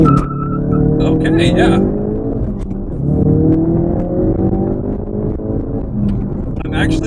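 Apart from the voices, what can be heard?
Ford Focus RS launch, tire spinning and accelerating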